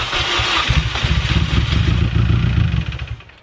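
A loud, rough engine in a Mini Cooper R53 with a cut exhaust rumbles and clatters at close range, running unevenly with heavy low-end throb before easing down at the end.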